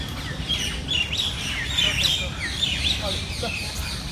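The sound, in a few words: birds chirping in Lodhi Garden, Delhi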